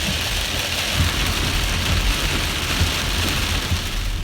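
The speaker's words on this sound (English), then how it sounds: "Look at that rain." Rain falls on a car while driving at night, a steady dense patter and hiss on the body and windshield with low engine rumble beneath, continuous and fairly loud.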